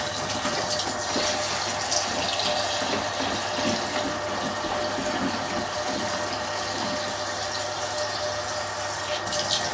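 Hot water running steadily from a tap during home brewing, a continuous close hiss and splash with no break.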